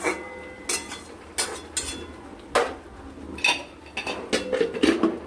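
A metal lid goes onto a cooking pot of katla fish curry set on low heat, giving a series of sharp clanks and clinks spread over a few seconds with quiet pauses between them.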